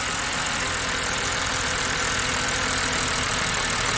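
A 2006 BMW E90 engine idling roughly with one ignition coil unplugged, a steady continuous mechanical drone with broad noise and no voices.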